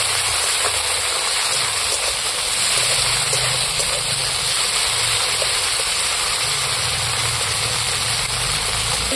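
Ground ginger and garlic paste fries in hot oil in a pan, a steady close sizzling hiss that holds evenly throughout without talk.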